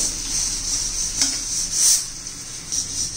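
Fried raw banana pieces are lifted out of hot oil. The oil keeps up a steady sizzle, and a few faint clinks of a utensil against the pan come through close by.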